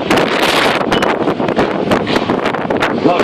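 Strong gusting wind at an outdoor stunt show, loud roaring buffets hitting the microphone continuously for a few seconds, no talk.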